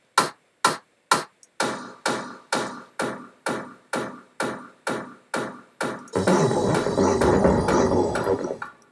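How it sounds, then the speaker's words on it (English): Thick, heavily distorted claps in an electronic music track, about a dozen sharp evenly spaced hits played alone before a loud, full mix of the track crashes in for the final few seconds. "have these nice claps that I made really thick and distorted"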